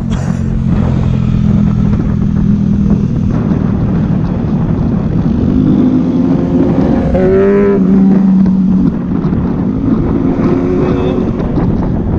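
A 1000cc big bike rides along a mountain road, its engine drone and heavy wind rush loud and constant throughout, with a brief rising tone from passing traffic midway.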